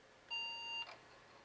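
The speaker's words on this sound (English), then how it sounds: "when it's ready, it'll beep at us to tell us to lift it from the sample" A lab analyzer probe, its tip lowered into a plasma sample, gives a single clear electronic beep about half a second long, a steady tone with a faint click right after.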